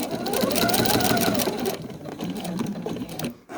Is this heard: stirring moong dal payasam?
no